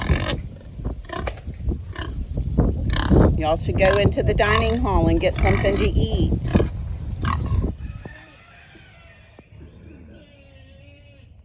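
Pigs on a small farm grunting and squealing under a man's speech for about eight seconds, then quieter background sounds remain.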